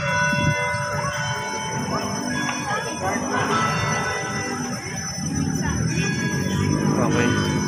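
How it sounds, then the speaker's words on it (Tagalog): A church bell rings at Intramuros, its tolls rising over steady crowd noise and nearby voices talking outdoors in front of the church. "So yan, tumunog na ang kampana."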